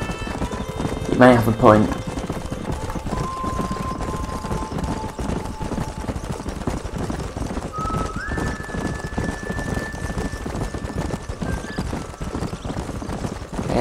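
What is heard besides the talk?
horses trotting and neighing in Red Dead Redemption video game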